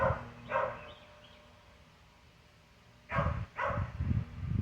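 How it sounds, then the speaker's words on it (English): Someone's dog barks outdoors in a rural setting, a few distant sharp barks at the start and then a louder cluster of barks near the end, with quiet in between. "Here, I hear someone's dog barking."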